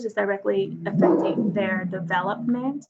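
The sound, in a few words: dog barking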